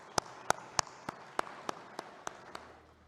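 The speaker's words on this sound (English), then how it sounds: "Please welcome both our guests with a huge round of applause." Single person clapping slowly in a lecture hall, about ten distinct claps at a steady pace that fade gradually, with no crowd joining in.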